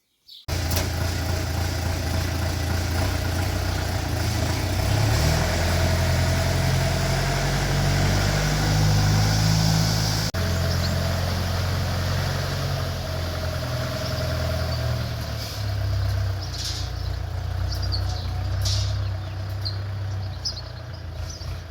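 A Scout TY-404 walk-behind tractor fitted with hedgehog weeders runs steadily in a potato field. Its engine drones loud and close throughout with a continuous low rumble, and faint birdsong sits in the background.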